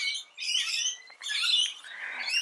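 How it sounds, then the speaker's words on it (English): Parrots call close by in a short burst of shrill, raspy squawks and chirps. Three bright calls are separated by brief gaps, with no voices present. "Oh, they're parrots."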